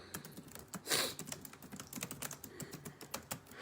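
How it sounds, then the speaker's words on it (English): Rapid typing on a keyboard, close and steady, with dense clattering keystrokes and one heavier keypress near the start; quiet overall with no voices. "Let me type this out."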